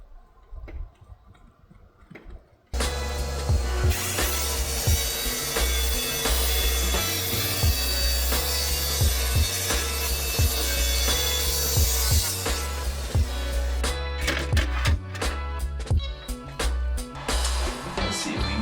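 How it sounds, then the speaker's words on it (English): A saw cuts through thin 1/8-inch plywood inside a boat's ceiling framing work, giving a continuous close rasping drone with faint repeated ticks from the strokes, then breaking into choppier scraps of sound near the end. "I'm just gonna cut off just a little bit from here"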